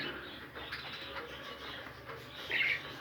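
Texas pigeons coo softly in an indoor hobby room, low murmuring calls under faint room hiss with a slightly louder burst near the end.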